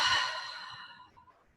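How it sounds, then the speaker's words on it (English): A single deep, breathy exhale during a seated chair yoga class, loud and close at first, then fading smoothly to near silence over about a second, with no talk. "Exhale."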